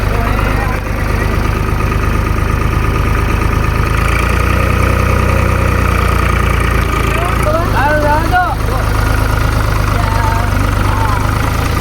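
A tractor engine idles with a steady low rumble throughout, while people talk over it nearby.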